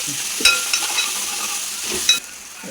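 Onions stir-frying in a pan for a Kerala clam meat perattu give off a steady crackling sizzle, with a few sharper scrapes and clatters as they are stirred, close by and without any talk.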